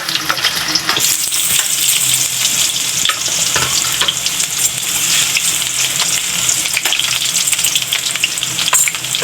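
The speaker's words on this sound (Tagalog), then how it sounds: "Igisa muna natin guys yung luya natin guys" Ginger sautéing in hot oil in a pan gives a loud, dense, continuous sizzle up close, with occasional stirring scrapes and no voices.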